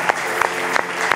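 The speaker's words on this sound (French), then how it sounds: "Acclame bien." An audience at a church preaching service claps together for a moment, a dense burst of applause with a few sharper individual claps standing out.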